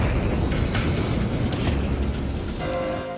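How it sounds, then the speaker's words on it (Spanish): A massive vehicle bomb explosion on a Nashville street fills the clip with a dense, loud rumbling roar and crackling debris, tapering slightly at the end. "la masiva explosión"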